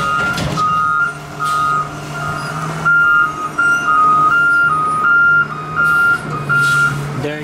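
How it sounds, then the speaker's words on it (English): A garbage truck reverses nearby, sounding a steady series of loud, evenly spaced backup beeps over a low engine rumble, with no talking. "Sorry, it's a garbage truck in the background."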